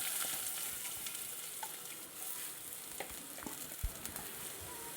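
Sliced onion fries in hot ghee and coconut oil, a constant bright crackling sizzle with scattered pops and a soft knock, heard close and without speech.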